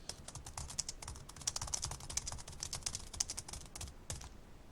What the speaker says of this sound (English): my mom's a typing teacher if you're wondering how I got to be such a fast typist